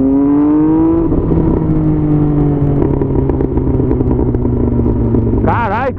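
An MV Agusta Rivale 800 motorcycle exhaust runs loud and close, its steady throaty drone lifting briefly in pitch as it revs, with a voice breaking in at the end.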